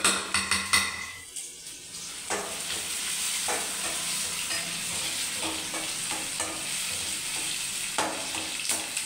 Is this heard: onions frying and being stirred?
yes